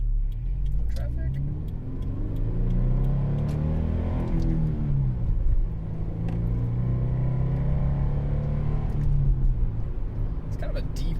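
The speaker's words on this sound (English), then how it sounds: "It's kind of a deep, raspy sound going on somewhere below." A Toyota GT86 fitted with a TRD sound generator drones with a deep, raspy engine rumble heard from inside the cabin while driving, steady and loud, with a voice talking over it.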